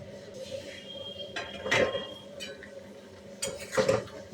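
A lid is set onto a cooking pot of ridge gourd in a home kitchen, giving two soft metallic clinks about two seconds apart over quiet room noise.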